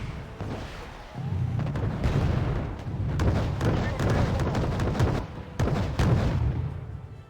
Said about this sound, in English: The missiles from the Lafayette's are pretty effective